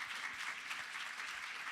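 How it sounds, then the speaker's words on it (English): Symposium audience applause, a brief steady patter of many hands clapping, fairly faint and even, with no voices. "Let's clap."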